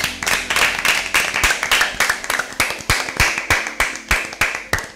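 A group applauds Team B at a Bible quiz, brisk close-up clapping with sharp, fairly regular hand claps that stay loud and rhythmic throughout.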